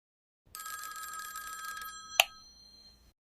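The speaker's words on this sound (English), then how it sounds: "My phone rings immediately with an unknown number" A phone rings with a bright electronic trill for a couple of seconds, then a sharp click cuts it off, leaving a faint fading tone.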